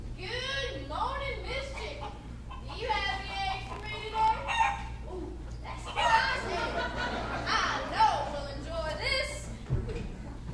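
A chicken clucking and crowing in its nest, the calls repeating through the clip beneath a person's voice, with a steady low hum underneath.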